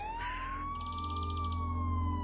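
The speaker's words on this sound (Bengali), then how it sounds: "দূরে শোনা গেল অ্যাম্বুলেন্সের সাইরেন।" A wailing ambulance siren far off, rising and falling tones drifting faintly over a steady low rumble and hum, continuous and never drawing near.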